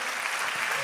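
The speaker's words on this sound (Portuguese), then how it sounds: "pode aplaudir o Senhor" A church congregation applauds in a brief, steady burst of dense clapping that fills the room evenly from start to finish.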